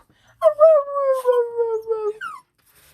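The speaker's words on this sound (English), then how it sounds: "She usually does this really cute bark." A dog gives one drawn-out, tonal howl that wavers for nearly two seconds before tailing off in a brief higher whine, close and clear with no talk.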